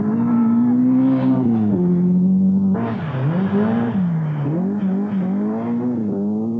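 A four-wheel-drive Lancia Turbo rally car on an icy stage of the 1990 Lombard RAC Rally: a loud, close engine that revs and drops through repeated gear changes and accelerations, with no voices.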